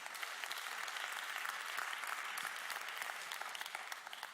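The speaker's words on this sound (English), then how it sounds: "Round of applause for Miss Ross." Sustained audience applause at an afternoon session of a gastronomy tourism forum, dense steady clapping filling the room from start to finish with no voices over it.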